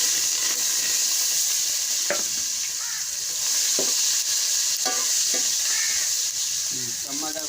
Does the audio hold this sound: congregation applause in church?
no